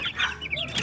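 Young chickens, about two months old and kept for crossbreeding, give a brief burst of soft clucks and chirpy calls nearby, a few quick notes packed into under a second.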